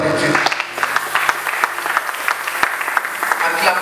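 A church congregation claps and cheers in acclamation, a loud dense patter of many hands with crowd voices mixed in, holding steady for the whole few seconds.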